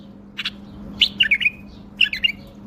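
A caged bulbul gives short phrases of clear, whistled chirps, three quick bursts separated by brief pauses, close and distinct above a low steady hum.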